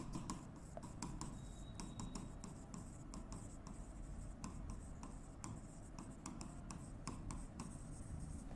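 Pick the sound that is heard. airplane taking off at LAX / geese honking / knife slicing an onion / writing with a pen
writing with a pen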